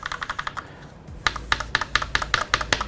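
Typing on a budget mechanical keyboard with brown switches: a run of crisp, evenly spaced key clicks, close and fairly loud, with a brief lull before a faster burst of keystrokes, no talk.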